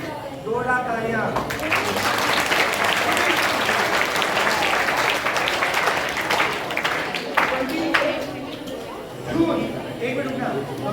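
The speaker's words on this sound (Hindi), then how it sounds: "जोरदार तालियां।" A seminar audience breaks into loud, sustained clapping lasting several seconds, with a voice speaking briefly before it rises and again as it dies away.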